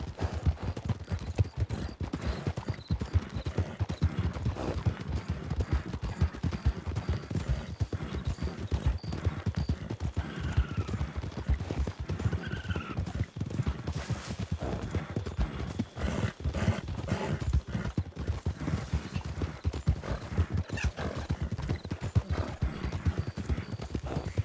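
A single horse carries its rider away with a steady, rapid clip-clop of hooves, an even rhythm that keeps going at close range and moderate volume, with a faint whinny partway through.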